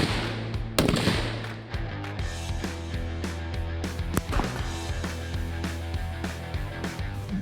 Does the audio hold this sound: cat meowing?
no